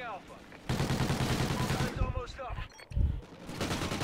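Rapid Vector submachine gun fire in a video game, a loud sustained burst followed by a few shorter bursts and impacts, with a voice speaking in between.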